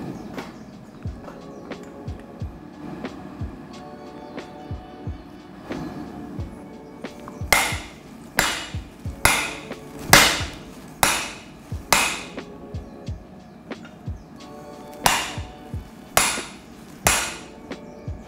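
A hammer strikes hot steel on a forging tool while a Nakiri knife is forged, sounding as loud, ringing metallic blows in uneven bursts over a quieter background of lighter taps.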